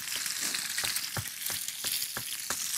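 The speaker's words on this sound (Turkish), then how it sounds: "İyi oldu şu biberleri ayrı kızarttık." Peppers frying in a hot pan on a home cooking show, giving a steady close sizzle with a few sharp crackles and pops spread through it and no talking.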